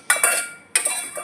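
Chunks of elephant foot yam drop into a metal pressure cooker in two quick clattering bursts, close and bright, with a short pause between.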